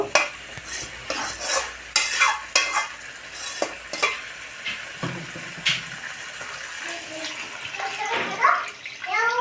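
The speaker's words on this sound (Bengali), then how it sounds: "এবার এটাকে ভালো করে নাড়িয়ে ভেজে নেব" A spoon scrapes and stirs repeatedly in a pan of frying potatoes over a soft sizzle, in uneven strokes close up.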